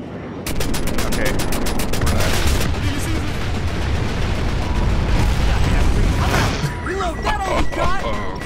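Dense, continuous gunfire and heavy combat noise from the video game Striker Valk fill the whole stretch. Rapid repeated shots run beneath it, and voices chatter over the action toward the end.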